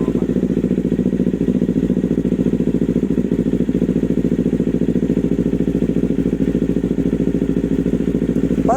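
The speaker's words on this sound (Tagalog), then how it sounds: "Papainit lang siya ng makina." A Kawasaki Z500 motorcycle idles while warming up, its engine keeping a steady, even, rapid pulse close by and at constant loudness.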